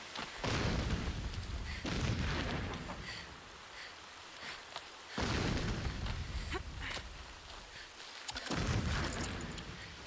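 Distant explosions rumble in the video game Horizon Zero Dawn, with several heavy low booms rolling in at intervals across the span, each followed by a decaying rumble.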